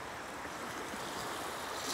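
Sea waves washing onto a shore, a continuous broad rushing wash with light wind, steady and fairly close with no voices.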